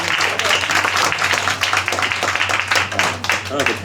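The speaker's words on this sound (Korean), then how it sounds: "다시 한번 박수." An audience at a Korean film screening Q&A applauds again, brisk clapping that swells and dips across a few seconds, with voices talking over it.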